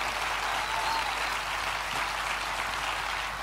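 Sustained applause from a big Apple keynote audience rolls on steadily for several seconds, a dense, slightly distant clapping texture with no talking over it.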